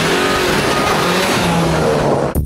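A Skoda Yeti with a 1.8 turbo petrol engine of 150 horsepower and a six-speed manual accelerates hard, a loud continuous engine and road roar with rising pitch that cuts off abruptly near the end, no voices.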